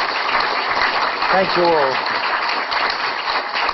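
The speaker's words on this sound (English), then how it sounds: "So could you please give a little round of applause to all those before Kevin" An audience at a Miscarriage of Justice Day meeting applauds the speakers with a steady, hissing wash of clapping, while a voice briefly speaks over it.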